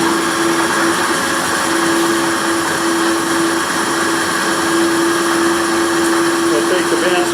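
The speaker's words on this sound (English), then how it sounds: "So get the bandsaw started." A bandsaw starts up and runs in a workshop, a steady whining machine drone with a constant tonal hum, close and loud throughout, continuous with no pauses.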